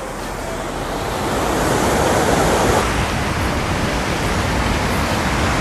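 Loud continuous rush of water pouring through the partly raised shutter of Maniyar Dam, a steady roaring wash that swells slightly and holds.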